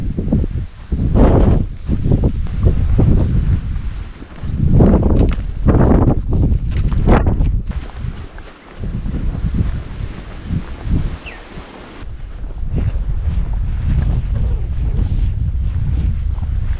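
Gusty wind buffets the microphone on the Dorset coast, loud roaring bursts that rise and fall irregularly before settling into a steadier rushing blow.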